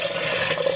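Water rushes forcefully into a Geberit concealed cistern flush tank, a brief close gushing fill with no voices.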